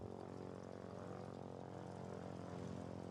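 Propeller plane engine in the video game Foxhole droning steadily at minimum power during a turn, a constant buzzing hum without talk.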